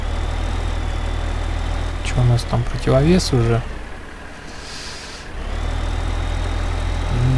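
Tractor engine in the video game Farming Simulator 15 runs with a steady low drone, briefly dipping quieter and then returning; someone speaks over it for a moment.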